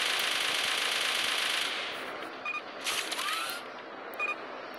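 Zombie Gunship on Android: a rapid, steady stream of heavy cannon fire rattles for under two seconds, then gives way to short bursts, clicks and a few electronic beeps at a lower level.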